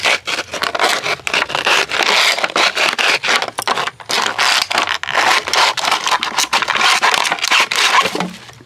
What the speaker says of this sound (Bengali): আর সবগুলো বোতলকে আমি ঠিক এইরকমভাবে কেটে নেব